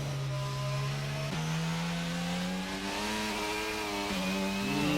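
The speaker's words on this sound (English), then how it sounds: "He looked like he absolutely smacked on the rev limiter through 3rd and 4th gear" A race car in the F1 22 video game at the Chinese circuit screams at high revs, bouncing off the rev limiter in sustained steady whines with abrupt pitch drops at each upshift, loud and close with no talk.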